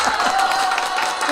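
Applause from a small crowd, a continuous wash of clapping mixed with cheering and a voice talking over it.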